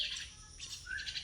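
Young pet birds, rescued after falling from their nest in a storm, chirp and squawk in short, close bursts against a quiet background.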